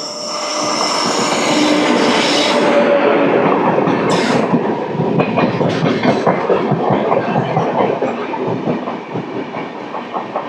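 A MEMU commuter train runs through a station without stopping, loud and close, its roar swelling and then fading as wheels clatter rhythmically over the rail joints.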